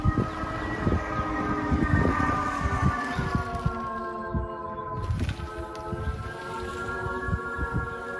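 Pedestrian warning tone of a BMW i3 electric car, a steady layered electronic hum whose pitch glides with speed, continuous and fairly loud over road noise and faint knocks.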